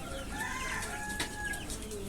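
Chicks and red-feathered roosters of a native breed, raised as egg-laying parent stock and kept indoors on a poultry farm, make a constant chorus of cheeping and clucking that carries on without a break.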